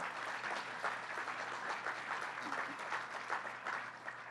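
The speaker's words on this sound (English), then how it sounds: "let's give them a round of applause and thank them" A crowd applauds steadily at Governor Cuomo's Penn Station entrance design unveiling, a continuous even sheet of many hands clapping at a distance, with a low hum underneath.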